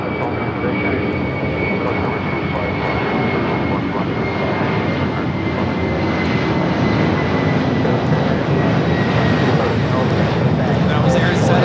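A jet airliner takes off from LAX with a sustained loud engine roar, broad and steady throughout, while radio chatter and talk run over it.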